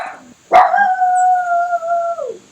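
A pet dog named Phoebe lets out one long, loud, sustained howl near the listener, holding a steady pitch before it trails off, with a sharp yip at the start.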